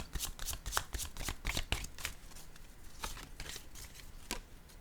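A deck of oracle cards is shuffled by hand close by, a quiet run of quick papery riffles and slaps coming in rapid bursts with no voice.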